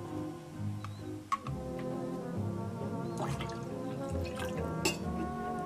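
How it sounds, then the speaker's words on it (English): Pineapple juice and orange juice poured into a rum cocktail, a close gurgling, dripping stream of liquid with small splashes, steady and moderately quiet. "Next, add in your juices, both your pineapple juice and your orange juice."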